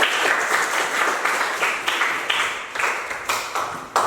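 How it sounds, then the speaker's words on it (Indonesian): Students in a classroom lesson clap together in several rhythmic waves of applause, close and fairly loud, with clustered group claps pulsing roughly every half second throughout. "Tepuk tangan sekali lagi untuk kalian semua"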